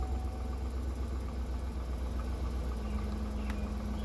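A 2008 Chevrolet Suburban engine idling: a quiet, low, steady rumble with a faint tonal hum and no clear changes in pace.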